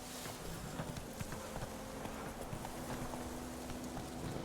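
Roach, the horse in The Witcher 3, trots along with steady clip-clopping hooves under a constant buzz of insects in the countryside, even and moderately close.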